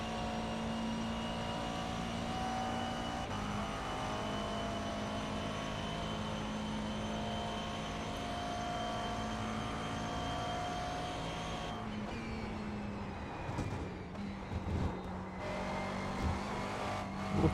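Steady race car engine droning loudly in a racing video game, a sustained tonal whine holding constant for most of the run before briefly dipping and revving near the end, with no voices.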